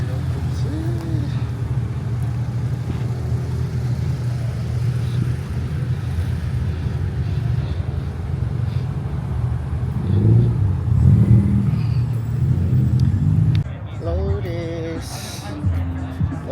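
A modified Acura RSX, nicknamed a monster truck, revving at a car meet in Las Vegas; a steady engine drone swells louder for a few seconds near the end, with people talking and crowd chatter throughout.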